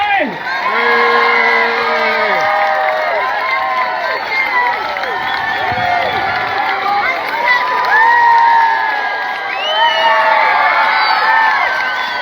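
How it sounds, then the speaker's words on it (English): A large crowd at a homecoming celebration for an Olympic medalist cheers, whoops and shouts loudly and steadily, with excited children's voices mixed into the roar. "Give a rip-roaring cheer for Philip Doyle!"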